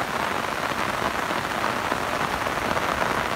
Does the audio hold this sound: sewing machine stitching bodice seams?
no